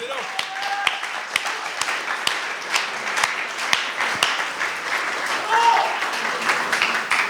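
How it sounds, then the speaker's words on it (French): Roman gets steady applause from the audience at a round table with deputies and healthcare workers, individual claps standing out sharply, with voices murmuring underneath throughout. "Vous pouvez applaudir Roman pour la vidéo"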